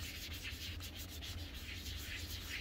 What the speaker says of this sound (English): circular motion, just to kind of get all the grit and all the little scratches out of that thing